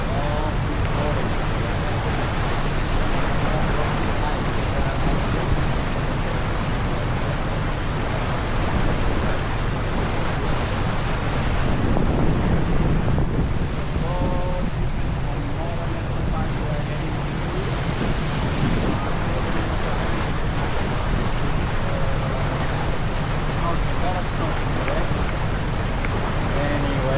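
Ocean waves wash around a traditional Indonesian phinisi sailing boat in Komodo National Park, a steady loud rush of surf and water with wind buffeting the microphone throughout, and a voice briefly present.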